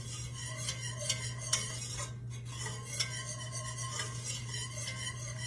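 A whisk works flour into melted butter in a pot for a roux, giving steady rhythmic scraping and clinking against the metal that runs throughout at moderate level under a low electrical hum, with no voices.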